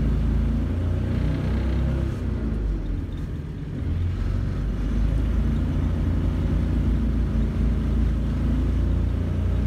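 A Renault car converted to a 670 cc Predator V-twin engine driving along, a loud continuous rough rumbling drone with a brief dip in level partway through and no talking.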